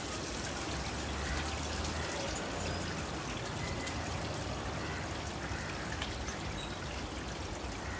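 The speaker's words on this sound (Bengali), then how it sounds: "জলটা এখন একটু ভরে এসছে, তাই জন্য ভাবলাম দিয়ে দিই বাবল বাথটা।" Water runs steadily into a jacuzzi bathtub being filled for a bubble bath in Goa, a continuous rushing hiss heard alone at moderate distance.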